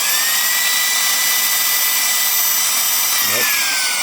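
A Reikiya cordless mini handheld vacuum, duster and air inflator runs with a loud, unbroken high motor whine and airflow hiss, and a brief wavering flutter sounds near the end.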